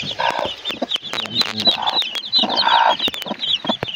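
Chickens clucking inside their coop, a steady scatter of close, sharp clucks and squawks overlapping in bursts, with no one talking.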